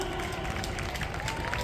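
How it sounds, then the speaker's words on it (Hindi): Audience applause for a woman constable honored at an Independence Day ceremony in Kekri, a steady dense wash of clapping from a crowd, moderately distant, continuous throughout. "महिला शक्ति का प्रतिनिधित्व करने वाली राजकुमारी जी के लिए जोरदार तालियां"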